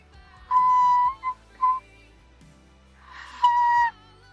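A singer demonstrating the whistle register, producing several high, thin, flute-like tones, with a long note, two short chirps, then another sustained note, clear and isolated against quiet.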